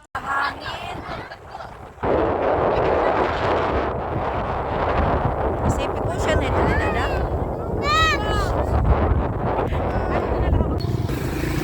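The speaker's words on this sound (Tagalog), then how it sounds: "Grabe talaga yung hangin." Strong sea wind roars and buffets the microphone in a loud, continuous rumble on a rocky coast, while voices speak underneath and a few high squeaky tones cut through.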